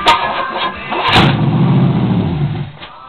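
A 1926 Dodge rat rod engine cranks for about a second, then catches with a loud burst and settles into a rough, steady running note up close, with no talking.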